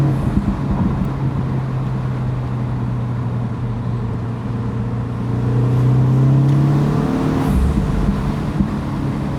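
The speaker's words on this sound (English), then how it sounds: "that turbo spool just sounds so cool." A 2025 Mini Cooper JCW accelerates from inside the cabin, its turbocharged engine droning steadily and rising in pitch as it pulls, with a whirring spool building over the run.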